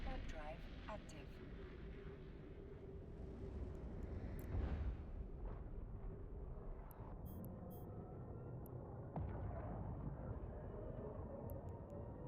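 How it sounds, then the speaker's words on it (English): A warp drive activating in the video game Eve Online, a rising, rumbling whoosh that swells and surges over several seconds, with a synthetic voice speaking over it and soft electronic chirps. "Warp drive active."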